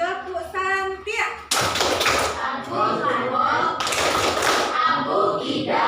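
A class in Indonesia performs the tepuk santiak clapping chant, loud group claps in sharp bursts mixed with children chanting and a voice leading.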